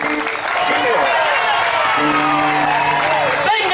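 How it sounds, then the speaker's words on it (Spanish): Audience applause and cheering after a song at a family reunion's cultural program, dense steady clapping with whoops, a voice rising over the crowd near the end. "¡Venga ese aplauso!"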